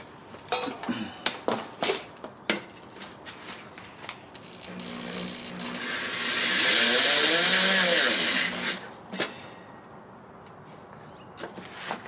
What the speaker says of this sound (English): I am going to just set on the outside of this and drill it out